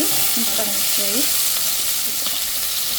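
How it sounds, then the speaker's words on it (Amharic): Onion sizzles in a little oil in a frying pan, a loud continuous crackle close by, with a voice briefly speaking underneath early on. "እዚህ ጋር በጣጥስ እንደምታዩት እየጠበስኩ ነው።"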